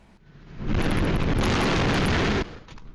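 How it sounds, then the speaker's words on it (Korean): A grain dust explosion at a port grain silo in northwestern Turkey, caught on a CCTV camera: a sudden loud, roaring blast of noise that sustains for about two seconds, then cuts off abruptly to low background rumble. "큰 폭발음이 들리더니 시뻘건 불길이 치솟습니다"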